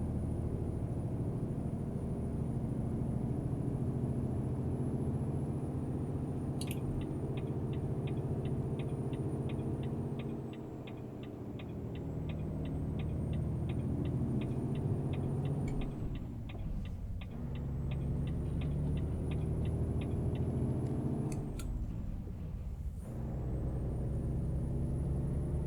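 A big rig's diesel engine laboring steadily in third gear in American Truck Simulator on the Dalton and Elliot Highway, a constant low drone with a rapid ticking running through the middle and a couple of brief hisses.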